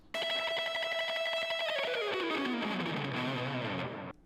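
A fast shred-style lick on a distorted electric guitar: one held, bright note, then a rapid run of notes sliding downward, loud and continuous with no talking.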